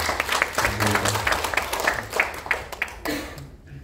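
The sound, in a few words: applause for the book authors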